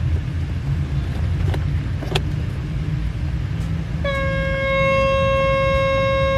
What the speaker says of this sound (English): To do that, we'll use our tone generator.